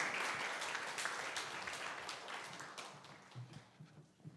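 Church congregation applauding as the senior pastor comes forward, a dense, steady wash of clapping that gradually thins and fades over several seconds, with no talking over it.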